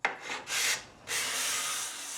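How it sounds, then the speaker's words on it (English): A steel burnisher drawn along the edge of a steel card scraper to turn the burr, producing a few quiet scraping strokes, the last one longer and steadier, close and alone. "use the burnisher to turn the burr over"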